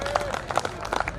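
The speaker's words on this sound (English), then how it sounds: "This clap from the room, from the recovering addicts" Scattered hand claps from a room of recovering addicts at a sharing meeting, a short burst of applause that sounds close and uneven, with a voice speaking over it.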